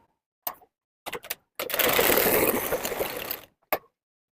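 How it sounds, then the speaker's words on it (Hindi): A sewing machine runs in one sustained burst of about two seconds, joining a blouse lining to the main fabric around the edges of a princess-cut blouse, framed by short clicks and handling sounds before and after. "अस्तर और मेन फैब्रिक को एक साथ फिर से सेट करते हुए चारों तरफ सिलाई लगा लेंगे"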